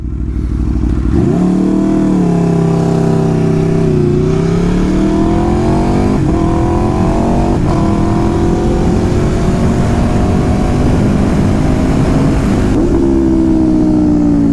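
A loud Aprilia RSV4 sport motorcycle engine with a LeoVince Factory S exhaust revs up and holds high, its exhaust note rising and falling through several surges, close and continuous.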